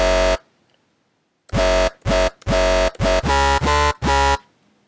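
A filthy, buzzing bass synth patch built in Massive, blaring in harsh, horn-like bursts: one short hit, a pause, then a choppy run of stuttering notes with a pitch dip near the end, loud and alone.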